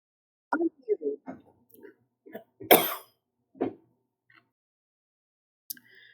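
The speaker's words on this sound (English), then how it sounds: "had to cough." A single sharp cough from an adult, close to the microphone, in an otherwise quiet indoor setting with faint soft murmurs and mouth sounds around it.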